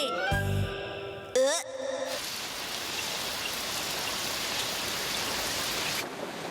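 Steady rain pours down, a broad hiss that fills the scene for several seconds after a short burst of animated cartoon sounds at the start, with no talking over it.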